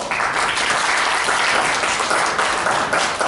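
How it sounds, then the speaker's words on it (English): An audience at a hypnosis talk breaks into dense, loud applause that stays strong and continuous from start to finish, with no voices over it. "Give a round of applause."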